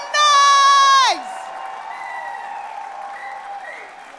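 A live poetry crowd at Hackney Empire, London, claps and cheers after a loud sustained whoop, the applause continuing steadily and close throughout.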